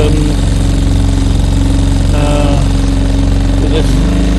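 A Parsons 2.6 horsepower outboard engine motors a small sailing boat on calm water, giving a loud, steady, close-up buzzing drone throughout as someone speaks over it.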